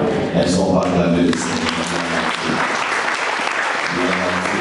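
A church congregation breaks into loud, dense applause, a sustained crackling wash of many hands clapping with voices audible over it near the start and end.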